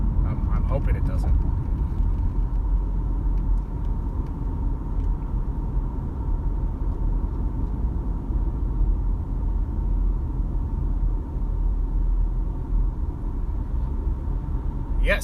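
Steady low engine rumble and road noise of a car driving toward Beaverton, a constant drone filling the cabin while a person talks over it.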